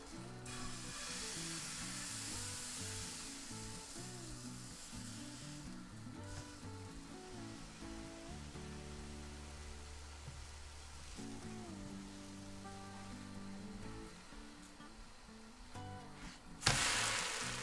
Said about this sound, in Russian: Очень хорошо прогреваю сковороду, смазываю ее тоненьким слоем растительного масла и начинаю жарить блинчики.